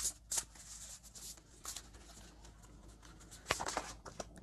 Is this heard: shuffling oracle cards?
yes